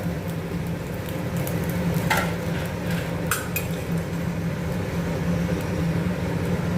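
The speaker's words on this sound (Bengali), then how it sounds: "পরে ফ্রাইটা ছাড়ছি তেলে।" Fish fry pieces cooking in hot oil, a steady close hiss of bubbling with a couple of sharp metallic clinks of utensils against the pan partway through.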